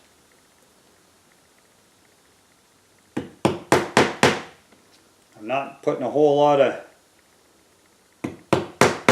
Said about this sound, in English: I'm just letting the hammer basically tap on the nail